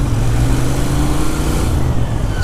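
A Royal Enfield Interceptor 650 motorcycle decelerates while being ridden, its twin engine giving a loud, close, rumbling burble with low throbbing tones and wind noise throughout.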